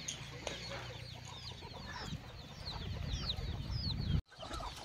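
Free-range country hens cluck and chatter softly in a shed on a farm amid cattle and buffalo, with repeated short calls over a low murmur and a brief thump near the end.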